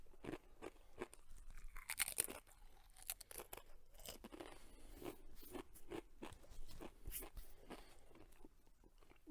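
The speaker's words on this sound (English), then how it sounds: "I'm chewing the whole chip in my mouth" Crisp, close crunching as a single very spicy chip is chewed for the One Chip Challenge, irregular bites and crackles repeating alone without talk.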